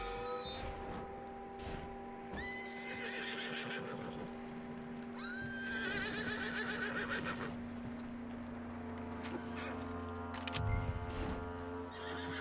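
A horse in Red Dead Redemption 2 neighs and whinnies repeatedly over a steady in-game ambient tone, with hoof clip-clops and a few sharp thumps mixed in at moderate loudness.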